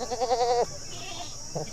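A goat gives one close, wavering bleat lasting about half a second, then the air falls quiet apart from faint low background noise.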